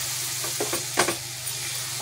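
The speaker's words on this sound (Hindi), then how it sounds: "अब इसको आप अच्छे से भुनिए, जितना अच्छा भुनेगा उतना टेस्टी ये चोखा बनेगा" Mashed potato chokha, with boiled mashed eggplant, is stirred and roasted in a pan, giving a gentle sizzle with a few soft scraping strokes and no talking.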